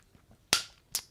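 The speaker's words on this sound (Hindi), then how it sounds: "यहां ताली बजाकर परमेश्वर को धन्यवाद देंगे।" Two sharp hand claps, about half a second apart, ring out crisply and close during a Hindi-language Bible teaching session, with no talking over them.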